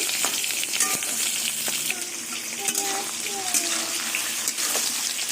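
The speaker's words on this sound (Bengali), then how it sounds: "কড়াই বসিয়ে গ্যাস ধরিয়ে ডিমগুলো ভেজে নিলাম" Eggs fry in a wok over a gas flame, giving a steady close sizzle with occasional light clinks and stirring.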